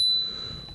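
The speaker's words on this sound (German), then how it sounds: "Klingel war dran." A single bright ding from the bell on a 2014 Ave XH7 pedelec mountain e-bike rings out close and clear, then fades away over most of a second.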